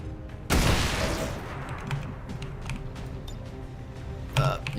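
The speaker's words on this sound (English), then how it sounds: "Just keep on lobbing more grenades" Grenade blast and gunfire in the turn-based game XCOM 2, a sudden loud explosion followed by crackling debris and mechanical clatter, then a second sharp burst near the end.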